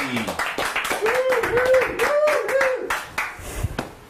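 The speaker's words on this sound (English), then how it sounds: "A nice big round of applause" A small group claps for a few seconds in a garage while a voice talks over it and a tonal wavering sound rises and falls.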